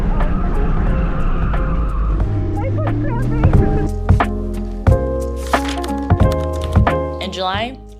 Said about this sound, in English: I just spun out everywhere, and I did really poorly that event.